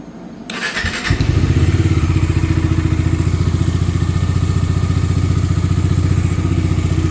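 A Bajaj Dominar motorcycle engine idles steadily after a replaced part, its close, loud exhaust thumping in an even rhythm from start to finish with no speech.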